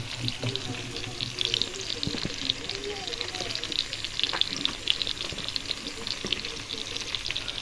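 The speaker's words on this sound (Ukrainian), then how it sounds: "Перемішала, ось така краса в мене смажиться" Pork meat with pork fat and a large amount of onion frying in a pan in a home kitchen, giving a steady, close sizzle with scattered small crackles and pops that runs evenly through the whole stretch.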